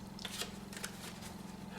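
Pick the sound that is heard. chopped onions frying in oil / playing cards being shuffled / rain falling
playing cards being shuffled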